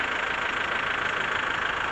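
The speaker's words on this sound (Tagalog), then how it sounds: "Ganda ng tunog ng makina eh, no?" A modern Euro 4 standard jeepney engine from the Philippines runs steadily at idle, a continuous close, even drone with a faint knocking texture and no talk over it.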